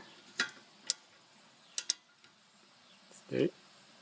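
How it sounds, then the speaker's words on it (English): 14 mm ratchet tightening the brake caliper bolts on a Honda, a few sharp metallic clicks and taps spaced irregularly, ending with a duller knock, close and quiet. "So now we can tighten those bolts back on so we can get our ratchet again here."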